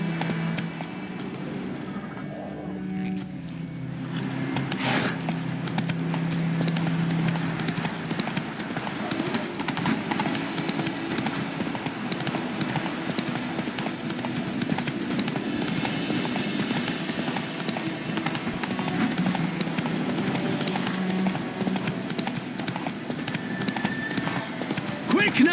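Steady galloping hoofbeats from a horse in The Witcher 3: Wild Hunt drum on for the whole stretch under game ambience, with a voice speaking briefly over the ride.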